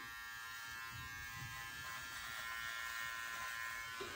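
An electric beard trimmer is turned sideways and scraped along the underbeard, giving a continuous close electric buzz with slight changes as it moves across the hair, and no talking.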